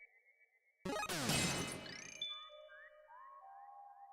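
A bell chimes in the video game Deltarune after a loud crashing burst, ringing out with a long, drawn-out tone followed by a series of short, bright pings that trail off alone.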